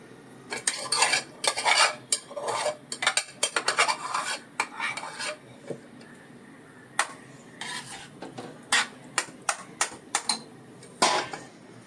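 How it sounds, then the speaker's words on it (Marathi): A taro leaf (alu) vegetable mixture is stirred in a metal pot, giving repeated bright clinks and scrapes of a spoon against the vessel in irregular bursts with short pauses, close and fairly loud, without speech. "हे जरा आता मिश्र करायचं व्यवस्थित"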